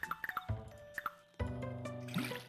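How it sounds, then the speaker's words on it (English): Watering can pouring onto a single plant outdoors in a farming video game, a run of light drips and splashes followed by a sustained gentle pour with soft bubbling tones. "Head outside and water our single plant."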